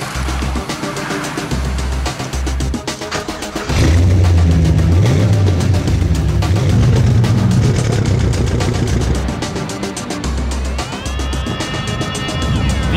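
A 2004 Pontiac GTO's 5.7-liter LS1 V8 runs with a loud, steady rumble that swells into a stronger rev partway through, mixed with a thumping music bed.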